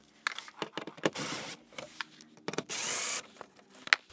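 A power tool buzzes in short bursts, removing Torx head fasteners from the belly pan of a Ford Focus, with two longer whirring runs between clicks and handling noises, close and fairly loud.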